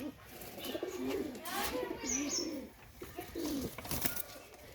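A pair of Pakistani teddy pigeons coo in soft, rolling repeated calls, quiet and close, with a few faint chirps and a brief flutter in the background.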